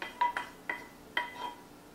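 Pear mixture dumped from a container onto scooped roasted acorn squash in a bowl, giving a few short clinks and soft thuds in quick succession, close and moderately loud with no talking.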